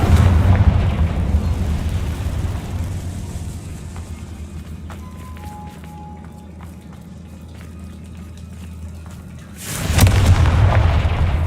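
Loud rumbling explosion from a Confringo blasting spell in a Harry Potter video game, a sustained heavy roar that fades slightly before a second sharp burst near the end, with a voice beneath it.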